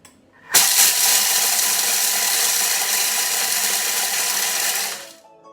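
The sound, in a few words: Thermomix pulsing to grind cereal at speed 5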